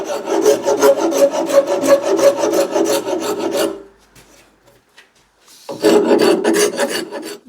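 A rasp files the wooden tongue of an axe handle in quick, rhythmic rough strokes, close and loud, pausing for about two seconds before the scraping resumes.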